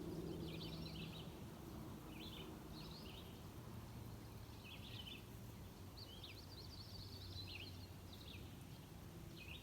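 Several small birds chirp in short, scattered bursts on a calm morning on the water, faint and somewhat distant over a steady low background rumble.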